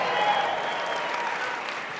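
A large audience at a network marketing event gives a sustained round of applause, a dense even wash of clapping that holds steady for about two seconds.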